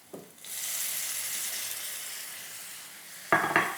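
Tomato hits a hot wok of oil with ginger and scallion and bursts into a loud, steady sizzle that holds for several seconds, with a clatter of stirring near the end.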